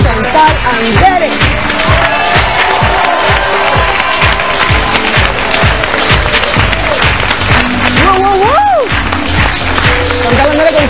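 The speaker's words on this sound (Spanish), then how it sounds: "Vamos a recibir con un fuerte aplauso a una de las artistas jóvenes más versátiles y más queridas de México, Chantal Andere." Studio audience applause on a Spanish-language talk show welcomes actress Chantal Andere. The clapping is loud and steady throughout, over a band playing a pounding beat with melodic lines.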